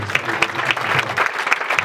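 An audience at a Christian prayer meeting applauds and cheers for Jesus, with dense, steady clapping and raised voices throughout a short, loud burst.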